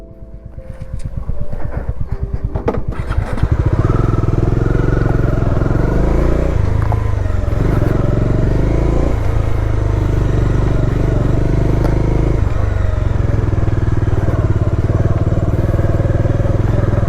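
A motorcycle ridden off-road on a trip near Bengaluru, its engine droning loud and steady close to the microphone with wind rush and small shifts in pitch, after a short rise at the start.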